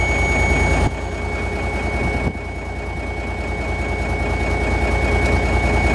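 An M931A1 military truck's engine runs steadily after a cold start, a loud, constant low diesel rumble with a slight shift in tone partway through, heard alone with no talk.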